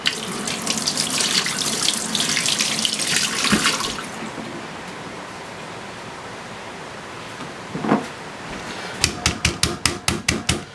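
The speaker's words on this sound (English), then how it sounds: "Wash my hands." Running water pours from a kitchen tap as hands are washed beneath it, then the flow stops and a series of sharp pounding knocks follows as chicken breast is pounded flat.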